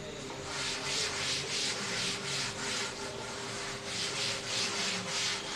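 Writing being wiped off a classroom board during a chemistry lesson, a rhythmic series of soft rubbing strokes under a steady background hum, with no talking.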